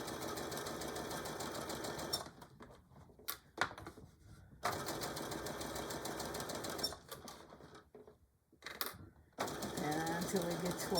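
A sewing machine stitching a fabric tool carry bag runs in steady buzzing stretches, broken by short stops and quick back-stitch bursts, heard up close.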